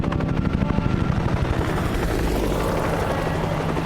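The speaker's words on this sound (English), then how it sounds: "I'd like to know why these helicopters keep showing up" A helicopter arrives, its rotor thumping in a fast, regular beat that is loud and close at first, then smooths into a steady roaring drone.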